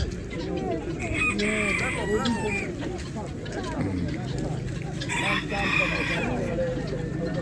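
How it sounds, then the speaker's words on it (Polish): Many chickens cluck and squawk together with roosters crowing at a poultry market in Poland with chickens, ducks and pheasants, a busy crowded chorus, while people talk nearby. "Kury, kaczki, bażanty."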